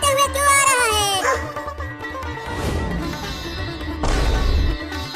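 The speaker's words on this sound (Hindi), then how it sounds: "वो कुत्ता मेरी तरफ दौड़ते हुए क्यों आ रहा है?" A cartoon dog barks and yips while running toward the listener, a few close, loud barks and whimpering yelps mixed with a musical cartoon soundtrack.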